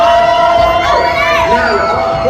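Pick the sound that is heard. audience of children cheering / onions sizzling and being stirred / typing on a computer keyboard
audience of children cheering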